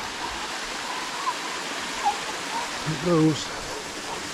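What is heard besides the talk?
small waterfall flowing into a stream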